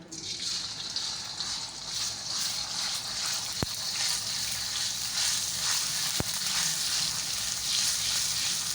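Ginger and garlic frying in mustard oil for beef achaar gosht, a steady close sizzle with soft bubbling and a couple of sharp clicks from a utensil.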